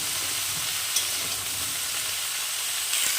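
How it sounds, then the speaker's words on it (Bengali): Mixed vegetables fry in a pan with a steady, bright sizzle and occasional soft stirring bumps, close and continuous throughout. "সব সবজিগুলো দিয়ে নেড়ে চেড়ে দু মিনিট মতো সবজিটাকে একটু ভেজে নামিয়ে নিতে হবে"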